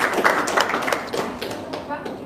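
Indoor group hand clapping, a quick burst of uneven claps and taps at moderate volume that trails off within a couple of seconds.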